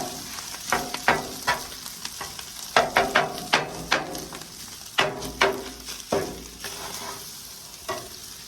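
Fried rice and meat sizzle steadily on a hot Blackstone griddle on high while a utensil scrapes and taps at irregular intervals, close and fairly loud, with no talking.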